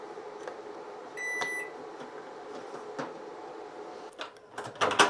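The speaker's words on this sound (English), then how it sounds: "we're going to go ahead and plug in the microwave" A plugged-in microwave oven emits a short run of electronic beeps near 1.3 seconds, with clicks and small knocks of handling toward the end, in a quiet indoor room.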